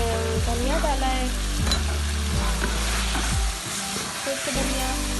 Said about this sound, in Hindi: देखिए गोश्त को अच्छी तरह मैंने भून दिया है।